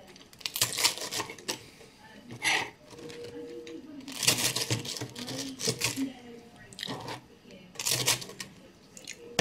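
A knife slicing the crusts off toast: bursts of crunchy, scraping strokes come in uneven groups, close and moderately loud, with pauses between passes.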